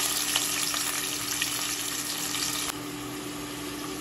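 Onion and tomato drop into hot oil, giving a loud, close sizzle that settles into a steadier, softer frying hiss after a few seconds.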